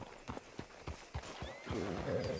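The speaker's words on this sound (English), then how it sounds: "Hitch your horse up here." Horse hooves in the video game Red Dead Redemption 2, a run of close, evenly spaced clip-clops that slow and fade into a soft snort or whinny near the end.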